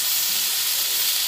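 A potato dish with soy and chili sauce sizzles steadily on low heat, a continuous close hiss with faint stirring beneath.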